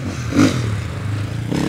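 An enduro motorcycle attacks the first special stage at Lac de Ganivet in Lozère during the Trèfle Lozérien, its engine roaring close by in one sustained, gritty burst that swells sharply early on.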